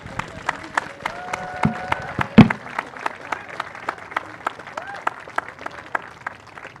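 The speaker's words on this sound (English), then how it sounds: "So you want to give them a round of applause," Audience applause at the 2018 Gravely Award ceremony: a steady patter of many hands clapping at moderate level, with faint tones and murmurs underneath.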